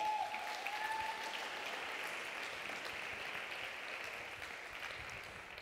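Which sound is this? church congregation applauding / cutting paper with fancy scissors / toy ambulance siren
church congregation applauding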